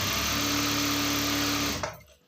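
A sewing machine runs a steady fast stitch line down a readymade top, loud and close, humming continuously before stopping abruptly near the end.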